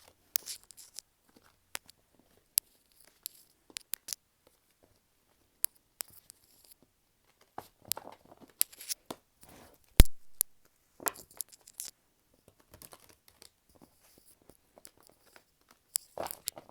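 Tarot cards are shuffled by hand in close, quiet bursts of soft riffling and scattered sharp clicks and taps, sparse at first and busier in the middle, with no voices.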